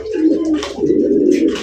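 A breeding pair of silver king pigeons coo close by in a loud, rolling, throaty call that swells twice, with soft rustling between and no talk.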